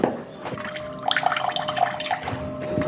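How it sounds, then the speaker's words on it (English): Cold water runs from a kitchen faucet, a continuous splashing stream with scattered drips and plinks over a steady rushing hiss, close and moderately loud throughout. "This is our cold water pressure in the kitchen."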